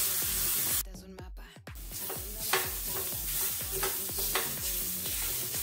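Vegetables frying in a pan with turmeric and Kashmiri chili powder are stirred, a steady close sizzle broken by repeated scraping strokes of a spoon, with a brief quieter gap near the start.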